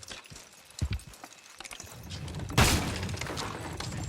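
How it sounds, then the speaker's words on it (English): Horses in Red Dead Redemption 2 strain to pull a structure down, with hoof thuds and creaks building to a sudden loud crash of breaking wood that rumbles on afterward. "Horses will pull it clean down."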